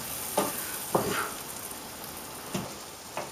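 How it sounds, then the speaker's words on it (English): Onions sauté gently in butter in a pan, a continuous soft sizzle and crackle with a few brief scraping stirs of a utensil, close by and without talk. "We want to lightly sauté these onions."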